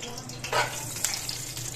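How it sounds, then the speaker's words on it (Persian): Onions fry in oil and rendered tail fat in a village kitchen, giving a steady, close sizzling hiss with a few brief louder crackles and no talking. "خب میریم برای سرخ کردن پیاز."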